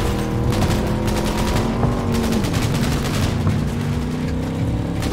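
Rapid automatic gunfire in Cyberpunk 2077, a dense continuous volley over a driving vehicle engine drone, loud and sustained throughout.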